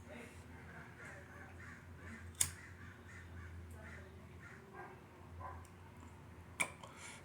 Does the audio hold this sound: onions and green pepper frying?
no